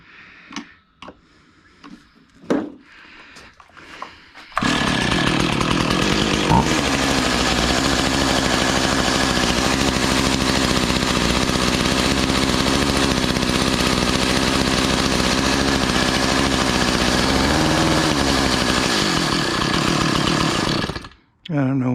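A Honda Monkey Z50 motorcycle engine idles steadily and loudly for most of the time after a few quiet knocks and handling sounds, running without a break before cutting off near the end.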